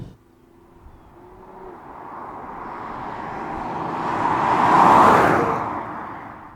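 Nissan Fuga sedan in sport drive mode accelerating, its engine note building steadily to a loud peak near the end, then easing slightly as it holds the gear longer.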